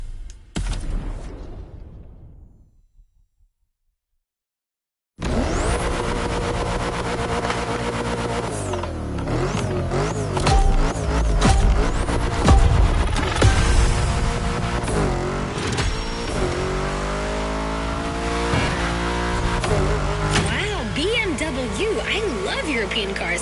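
A 953-horsepower front-engine, rear-wheel-drive BMW in The Crew Motorfest gymkhana, its engine revving hard and rising in repeated surges, with tyre noise and gear shifts. A brief silent gap comes before it, and the car is heard loud and up close.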